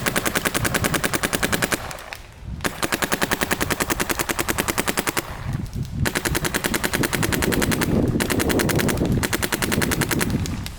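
An HK Army Shocker AMP paintball marker fires in long rapid strings, a loud close machine-gun-like stream of sharp pops broken by brief pauses, with no speech over it.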